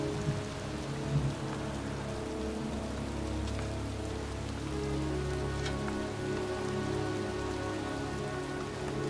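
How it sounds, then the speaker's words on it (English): Steady rain patters on a surface in the video game Heavy Rain, at a cemetery, a continuous even hiss with a low ambient hum underneath. "It's cold. It's raining."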